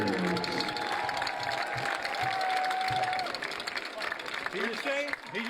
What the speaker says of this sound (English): let's give a big round of applause for our 2022 Tiger senior football players.